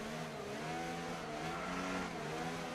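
An F1 car in the F1 25 video game drones steadily while warming its tyres, the engine note gently wavering in pitch over a few seconds at moderate loudness, with no talk.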